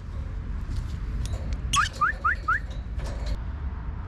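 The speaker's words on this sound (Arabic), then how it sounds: "شوفون هاي طيور، طيور الغندور" Pet birds kept indoors give a quick run of four bright rising chirps plus a few scattered faint calls, fairly quiet against a steady low background hum.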